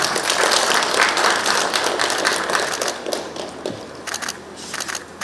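Audience applause at an official ceremony for signing cooperation agreements on tourism between Kenya and Uganda, a dense burst of clapping that gradually thins out near the end.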